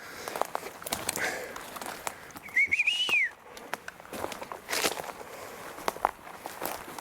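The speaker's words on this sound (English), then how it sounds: "Sorry about the whistling, it's just my thing." A person whistles a short rising-and-falling note outdoors amid footsteps crunching on ground and faint rustling.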